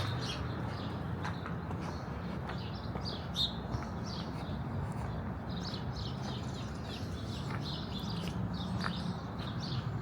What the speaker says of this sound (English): Still house sparrows.